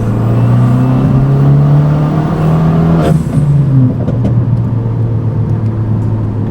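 Renault Megane RS engine under hard acceleration, a loud close droning tone climbing steadily in pitch, then a sharp gearshift break around the middle before the note settles lower and builds again, no talking.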